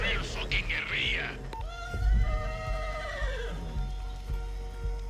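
Horses whinnying in the Far Cry 6 video game, a high wavering neigh followed by a longer descending whinny, loud and close, with voices speaking over the game sound.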